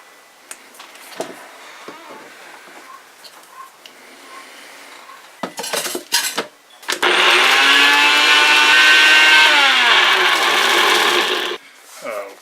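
A small kitchen blender grinds dog cookie ingredients into powder in one loud, steady whirring run of several seconds, preceded by clicks and handling sounds as it is loaded.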